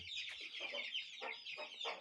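Young fighting-breed chickens cluck in a quick run of short, clipped calls, fairly faint and close together.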